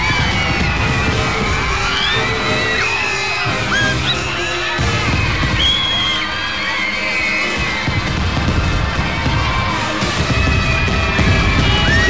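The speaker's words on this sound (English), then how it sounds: "experience this magnificent display of fireworks for yourself" Fireworks display over the Singapore National Day Parade stadium in 1998, a continuous rolling mix of bangs and crackles blended with a cheering, singing crowd, loud and dense throughout.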